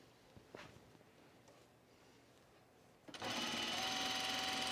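Home sewing machine stitching a shirt, starting up abruptly after a few quiet seconds of faint handling and then running in a steady, close whir with a high whine.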